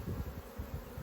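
Honeybees hum around an open beehive during an inspection, a low, wavering buzz close by that rises and dips with passing bees, with no voices.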